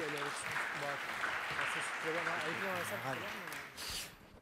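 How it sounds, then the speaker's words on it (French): Steady wash of applause from an audience with a person talking over it, clapping fading toward the end. "Oui, vous pouvez applaudir."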